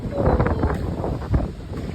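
Strong gusts buffet the microphone with a rough, low rumbling roar throughout, loud and close.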